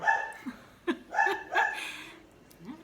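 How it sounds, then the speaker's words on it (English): A pet dog barks at the postman indoors, a few sharp, fairly close barks scattered irregularly across a few seconds. "Oh, my dog's barking, bless him. I think it's the postman."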